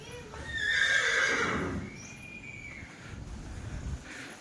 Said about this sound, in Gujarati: તે જો આ બધી ઘોડીઓ છે જો